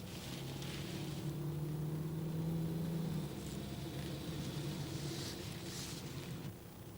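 A 1982 Chevrolet Cavalier cruises along surface streets, giving a steady, close engine hum and road rumble with a faint whine that holds throughout, no voices.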